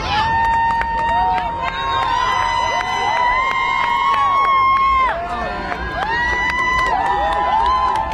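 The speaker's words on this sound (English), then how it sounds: "Guys, look at this crowd." A dense crowd cheers and shouts at the Georgia Bulldogs championship parade in Athens, loud and continuous, with high excited voices and whoops layered throughout.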